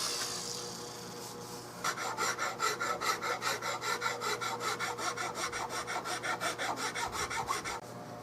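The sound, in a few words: sanding wood on a shotgun stock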